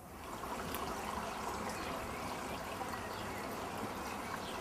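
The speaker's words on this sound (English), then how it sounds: "So it comes out as a natural spring out of the rock" Natural spring water flowing out of rock on a rural off-grid property in New Zealand, a steady, continuous trickling stream heard close and alone, with no talk.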